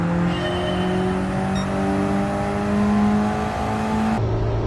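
A race car in Gran Turismo 7 holds a steady, loud engine drone throughout, its pitch shifting slightly as it brakes for a tight left-hander, then dropping near the end as the note changes.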